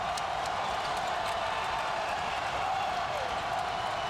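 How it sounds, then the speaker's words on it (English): Basketball arena crowd during a Tennessee versus Georgia game, a steady roar of cheering and noise filling the whole stretch, loud and continuous with no single voice standing out. "Crowd now back into the game."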